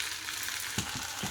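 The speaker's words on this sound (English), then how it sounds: "onion is frying" Onion sizzling and frying in a pan, a steady close crackle with a few soft stirring knocks, no voices.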